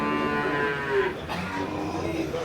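Dairy cows low at a Kerala cattle market, one long drawn-out moo close by that fades, followed by a shorter call against a steady crowd murmur.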